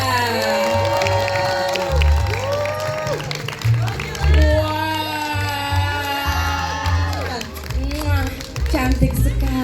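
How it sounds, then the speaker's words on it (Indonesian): Audience at a press conference for the film A Normal Woman applauds and cheers steadily under an announcer's voice and music, the clapping and crowd noise continuing throughout. "boleh kasih tepuk tangan sekali lagi"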